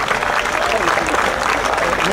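Audience applause at an outdoor concert stage, a steady dense wash of many hands clapping throughout, loud and continuous with a voice talking over it.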